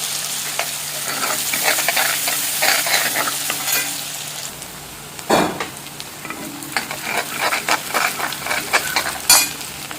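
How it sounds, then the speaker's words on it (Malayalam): Chopped shallots frying in coconut oil, a bright continuous sizzle broken by several sharp scraping stirs of a spoon, close up and without speech. "അത് വെളിച്ചെണ്ണയിലിട്ടിട്ട് നന്നായിട്ടൊന്ന് മുരിച്ച് അതിലോട്ട് വെച്ച് കൊടുക്കാം"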